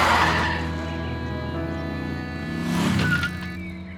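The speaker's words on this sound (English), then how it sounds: "put his toolbox in his car, then he drove off in a hurry" A cartoon car belonging to a fox character speeds away in a hurry, its engine revving with a brief tire squeal, loud at first and then swelling again as it drives off.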